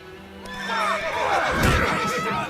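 A horse whinnies loudly and close in a tense confrontation, the neigh rising and wavering for about two seconds over a dense, noisy background.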